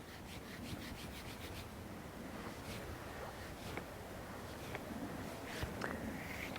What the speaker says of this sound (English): a bit of a gentle rub to soften the fibres